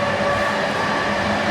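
Steady rolling rumble and hiss of a moving passenger train heard from its rear end, continuous and even with no talking.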